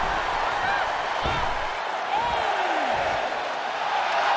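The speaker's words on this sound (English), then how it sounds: "The sound of this crowd is deafening" Arena crowd roaring at a WWE 2K23 wrestling match, a dense, loud, continuous wall of cheering with a few sharp impact thuds mixed in.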